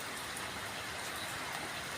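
Rain pours down heavily outdoors near a pigeon loft. The hiss is steady and even, with no breaks, and keeps at a moderate level through the whole clip.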